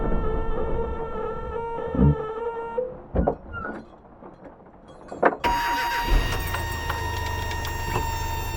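A 1982 Dodge D50 pickup fitted with sound deadening cranks over with a few short bursts and stumbles, then catches and settles into a loud, steady idle close by.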